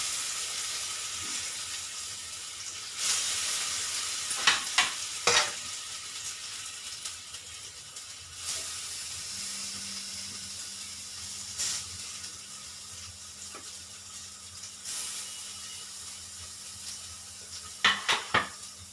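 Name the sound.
banana kofta frying in oil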